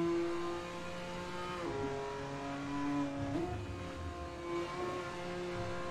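Race car engine in a GT4 sim racing game at Calabogie, revving hard as gears are changed roughly, with rising and dropping pitch through several shifts, loud and steady throughout.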